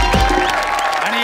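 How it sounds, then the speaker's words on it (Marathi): Studio audience at a Marathi comedy quiz show breaks into a short burst of dense applause welcoming a team of teachers, a steady wash of clapping with a voice briefly audible underneath. "एकदा जोरदार टाळ्या"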